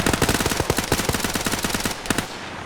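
Rapid automatic gunfire rattles in a steady burst for about two seconds, then cuts off, with one last short shot near the end.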